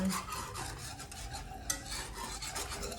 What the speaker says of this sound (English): think it needs a little bit more whisking